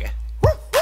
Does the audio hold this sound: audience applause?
no